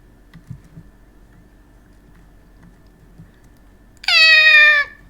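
A streamer imitates a cat with their voice: after quiet, faint keyboard tapping, a single loud, close meow rises and then slides downward, lasting under a second.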